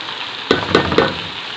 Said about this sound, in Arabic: طبعا الرز مغسول ومتصفي كمان، وهديله تشويحه